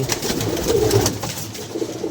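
Pigeons coo softly close by, a few low throaty calls repeating over a quiet background.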